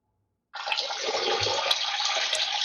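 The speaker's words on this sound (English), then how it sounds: "I'm pouring water. Not using the bathroom." Water pours steadily from about half a second in, a continuous close splashing rush that fills the rest of the clip with no talk over it.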